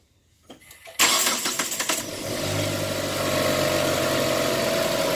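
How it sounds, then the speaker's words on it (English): A car engine cranks with a rapid rattling churn, catches, and settles into a steady, loud idle close by. "so I'm going to start the car up"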